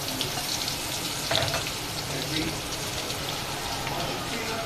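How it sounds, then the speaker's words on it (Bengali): Chicken pieces fry in hot oil for a wedding-style dish, a dense, steady sizzle and crackle at close range with a brief louder burst, and a voice speaks faintly underneath. "সবগুলো একসাথে ভেজে নিব"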